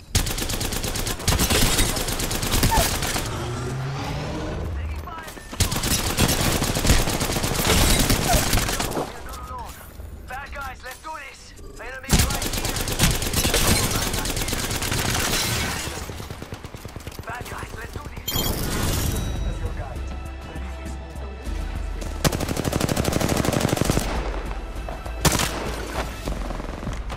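Apex Legends gunfire, with rapid bursts of automatic shots and heavier booms in loud clusters broken by short lulls, while voices talk over the fighting.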